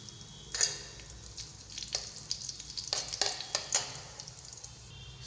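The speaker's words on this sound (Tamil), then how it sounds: "சோம்பு லேசாக பொரிஞ்சதும்" A pinch of fennel seeds sizzles and crackles in two spoons of hot oil in a kadai, with a soft steady fry and scattered sharp pops and spoon stirs close by.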